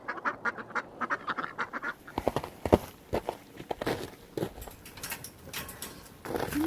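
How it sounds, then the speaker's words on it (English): Ducks quack and shuffle inside a small homestead greenhouse made from a converted children's playhouse, with rapid repeated calls, footsteps and scuffling close by, busy and moderately loud. "This is our duck greenhouse, formerly a chicken greenhouse."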